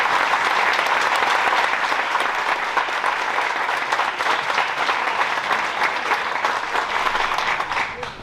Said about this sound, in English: give all of our honor grads one more round of applause